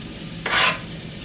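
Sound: diced onion sizzling in a pan

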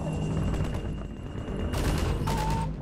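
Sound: gunfire in the video game Half-Life 2

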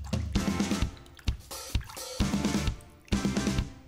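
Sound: breaded turkey being dipped in water

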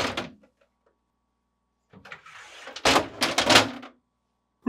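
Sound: removing a GE French door refrigerator door

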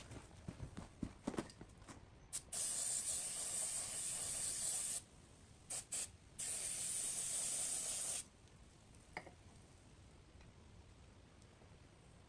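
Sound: contact cleaner being sprayed on a clutch gear

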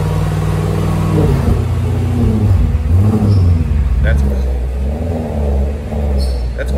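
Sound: Audi RS7 Sportback exhaust revving with valves closed

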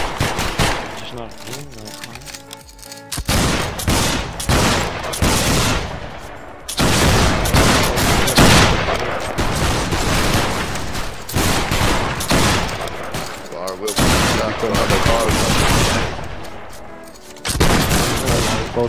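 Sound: musket volley fire in video game Battle Grounds III

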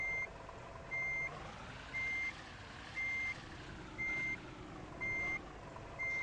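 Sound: truck reversing beeps in video game Truck Simulator Ultimate

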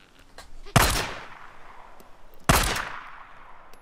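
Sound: gunfire from the video game Days Gone

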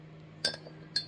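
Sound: spoon clinking on dishes

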